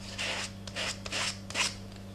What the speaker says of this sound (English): Just scraping it on.